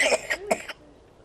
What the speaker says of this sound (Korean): 기침을 심하게 하고 있었습니다